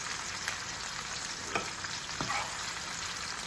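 Beef sausages frying with onions in a pan, a steady close sizzle with a few sharper pops and crackles, no talk.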